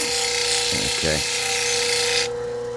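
Aventurine stone ground on lapidary grinding wheels, a steady broadband grinding hiss with a constant motor hum, broken by brief rubbing bursts, with the grinding cutting off near the end; a voice speaks once.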